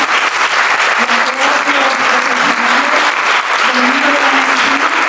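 Loud, sustained applause fills a casino hall during a bullfighting gathering and tribute, a thick constant wash of clapping from a large crowd, with a voice faintly audible underneath.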